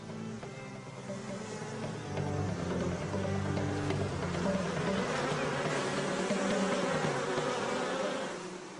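Honeybees buzz densely around their hive as a queen returns, a steady close swarm drone that swells louder midway and holds, with no voices.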